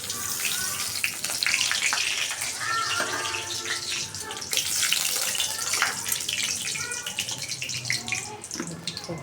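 Two dried red chillies dropped into hot oil in a wok give a close, continuous hiss and crackle of sizzling, with a faint voice now and then.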